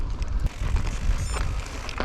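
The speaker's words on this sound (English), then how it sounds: "Pretty windy today." Gusty wind buffets the microphone with a constant low rumble and rushing noise, loud and close, with no voices.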